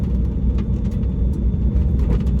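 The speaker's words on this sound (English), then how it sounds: "Big rowdy burnout." A race car does a loud burnout at Coos Bay Speedway during the Redwood Rally, its engine roaring with a steady, dense rumble and spinning-tire noise throughout, close and constant with no talk.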